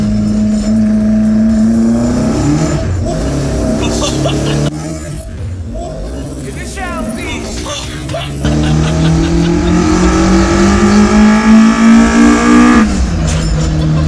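A Toyota AE86 Trueno with a 4A-GE engine on individual throttle bodies, driven hard on mountain roads: loud, close revs climbing through the gears, with a brief lift and tire squeal between pulls.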